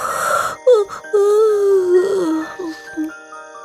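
A human voice imitates a fox's yawn: a drawn-out, wavering, moaning tone that slides downward over a few seconds, close and clear, with no other sounds.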